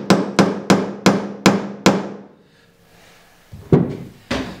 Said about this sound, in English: tapping the bolt down a little